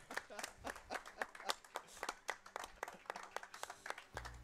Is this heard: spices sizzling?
no